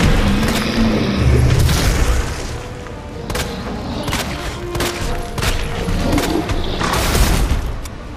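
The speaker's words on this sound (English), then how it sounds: "One of those blast canisters" Blast canister explosion in the Resident Evil 2 video game, a heavy boom amid rapid volleys of gunfire and further thuds that fill the stretch densely and loudly.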